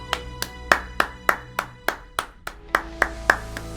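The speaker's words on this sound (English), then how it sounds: "Give yourselves a round of applause for the awesome job you did today." Sharp, evenly spaced hand claps, about a dozen in a steady beat, sound close and clear over a sustained piano-like tone, with no voices.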